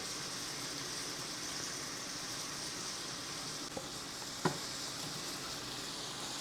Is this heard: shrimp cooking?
yes